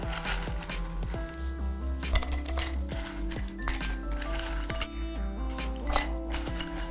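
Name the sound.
ice being added into glassware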